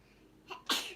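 A single sharp sneeze, a quick intake then a loud burst, close and alone.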